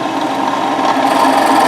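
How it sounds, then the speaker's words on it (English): Power drill boring a 3/8 inch hole through scrap wood for a guitar's volume control, a loud, steady, high-pitched motor whine that runs unbroken and close, with no voices over it. "Now I'm going to drill a 3/8 hole for my volume control to poke out of."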